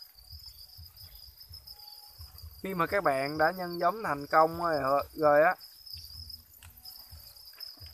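Crickets chirp in a steady, continuous high trill throughout, while someone speaks in Vietnamese over the middle section.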